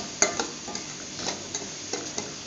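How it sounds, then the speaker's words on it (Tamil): Semolina being stirred and fried in ghee in a pan gives a soft continuous sizzle with light scraping strokes of a spoon against the pan, close and fairly quiet. "ரவையை நல்லா ஃப்ரை பண்ணி பொன்னிறமாக வர வரைக்கும் வறுத்து எடுத்துக்கலாம்."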